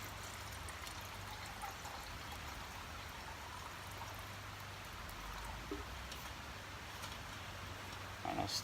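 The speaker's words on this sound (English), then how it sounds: "let's add the water here" Water is poured into a budget hiking cooking pot at a camp setup, giving a faint, steady trickle that runs quietly throughout with no talking.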